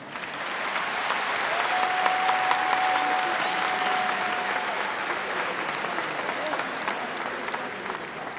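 A crowd at a tribute ceremony in Abidjan for the artist Papa Wemba applauds steadily, a sustained wash of clapping with a faint whistle-like tone riding briefly above it.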